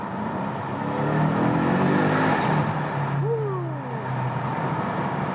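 A BMW M5 or M550i V8 engine revs hard in a road tunnel and drops back after a downshift, its roar echoing off the enclosed walls, with a rising whine near the end.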